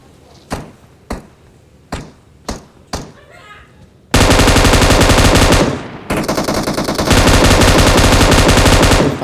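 Bursts of gunfire aimed at a bot in PUBG Mobile: several sharp separate shots, then a loud sustained automatic volley that breaks briefly and resumes, close and dominant.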